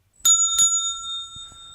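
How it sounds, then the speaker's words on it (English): A bicycle-style bell rings twice in quick succession as a scene-change cue in an improv exercise. Its bright, ringing tone lingers and fades into near silence. "When you hear that bell sound"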